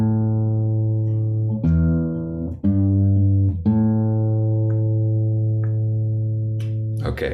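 Plucked guitar notes ring out in a short repeating riff, bass notes thumbed under sustained harmonics, clear and close with no voice.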